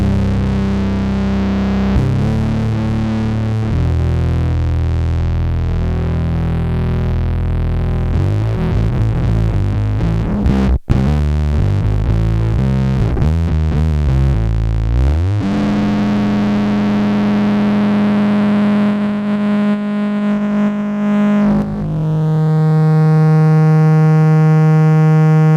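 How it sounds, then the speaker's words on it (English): A bass guitar runs through a Dark Glass Electronics fuzz pedal, giving a thick, buzzing distorted tone with sustained notes and shifting riffs, loud and alone throughout. "It's a really, really cool fuzz."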